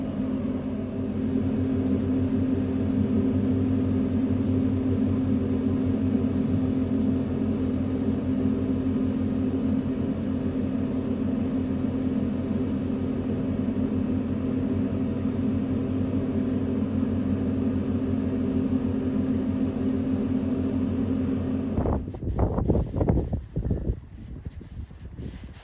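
Strong wind blowing outdoors, a steady loud roar buffeting the microphone for most of the stretch, then breaking into gusty, uneven bursts near the end.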